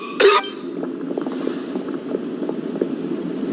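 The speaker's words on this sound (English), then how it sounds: "Why is he coughing so much?" A character in a Genshin Impact story cutscene gives one short, loud cough near the start, followed by a low murmuring background bed.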